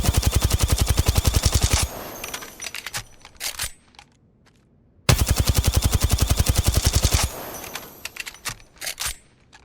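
Rapid automatic gunfire from a video game during a recoil macro test comes in two long bursts, each followed by a few scattered single shots and brief quiet gaps.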